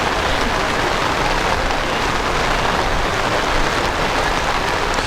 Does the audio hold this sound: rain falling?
yes